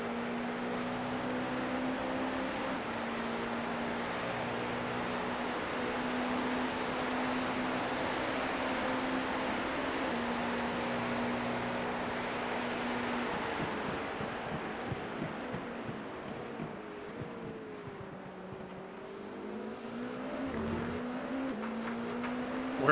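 A race car drives on track during an endurance race: a continuous engine drone with smooth pitch rises and dips as the car shifts and passes slower traffic, steady and close, with no talk.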